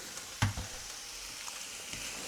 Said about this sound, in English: And now you stir fry it with its own meatiness.